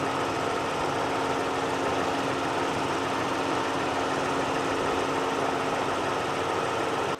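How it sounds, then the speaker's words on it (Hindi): A new Tata Curvv Hyperion petrol engine idles steadily, a continuous close, even hum with a low drone and no pauses throughout. "अब इस टाइम ये इंजन स्टार्ट है, आइडल कंडीशन में है, और मैं आपको इसकी साउंड सुना देता हूँ"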